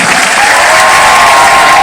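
A large crowd at a comedy show in Banda Aceh applauds loudly, a dense, continuous wash of clapping with a hint of cheering, close and steady for its whole short length.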